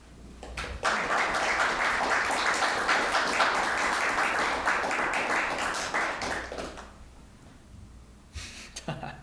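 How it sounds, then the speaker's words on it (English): Sustained audience applause following an art talk, a dense wash of many hands clapping at steady loudness for several seconds before thinning out, then a few scattered claps near the end. "Thanks for the applause."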